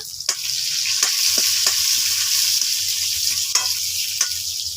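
Chopped garlic and whole cumin seeds fry in hot oil while being stirred, a steady close sizzle with scattered spatula taps and scrapes on the pan.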